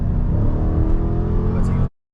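A 2023 Dodge Charger Scat Pack Widebody accelerates hard, its loud, dense engine roar building steadily from inside the car for about two seconds before cutting off abruptly.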